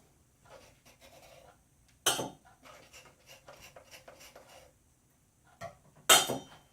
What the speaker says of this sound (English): I take my butter knife and I just kind of go around the top edge